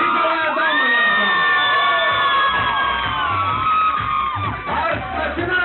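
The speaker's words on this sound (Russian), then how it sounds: "Ну что ж, у нас есть Арс, пожалуйста, поаплодируйте ему." A Halloween party crowd of children and adults cheers and whoops continuously and loudly, a dense wash of excited shouting with some voices rising above the din.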